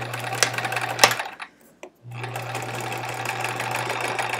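A sewing machine hums and clatters close by as it stitches quilt pieces along a seam, running steadily with a brief stop in the middle before carrying on.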